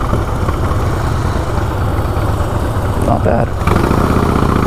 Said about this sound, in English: is that a Harley? That's a Sportster.